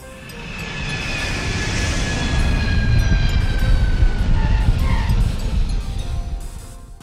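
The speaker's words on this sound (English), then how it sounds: "Sporting airplane." A sport airplane flies by with a loud, droning propeller engine that swells to a peak mid-pass and then eases off, heard alone without talk.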